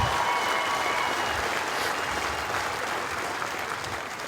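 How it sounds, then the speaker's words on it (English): A crowd applauds steadily at a graduation ceremony for new Air Force airmen, sustained dense clapping that fills the whole moment and fades slightly toward the end. "Let's give them another round of applause."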